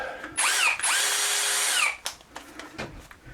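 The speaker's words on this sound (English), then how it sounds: "I'm going to use a 1/4 inch drill for this" A power drill with a 1/4 inch bit whines up briefly, pauses, then spins again in a longer high-pitched burst drilling small mounting holes before stopping, followed by light clatter.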